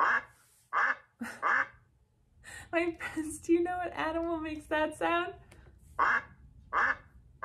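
A duck quacks in a string of loud, nasal calls up close, with a voice talking before and after the quacking.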